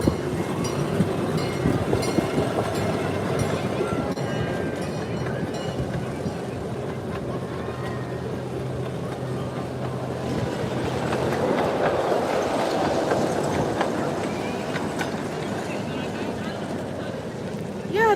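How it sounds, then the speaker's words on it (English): A zoo train passes at a park in Houston with a continuous rumble and clatter of wheels on rails, moderately close, while people talk nearby over it. "The zoo train."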